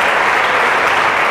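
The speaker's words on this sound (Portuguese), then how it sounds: "Aplauda Jesus" A church congregation applauds together in a steady, dense wash of clapping that stays loud and close throughout, with no voices standing out above it.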